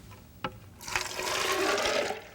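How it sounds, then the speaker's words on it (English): Water poured into a blender holding cashews, starting after a short knock with a rushing, gurgling splash that builds and then tapers off, close and alone. "And we're going to put some water."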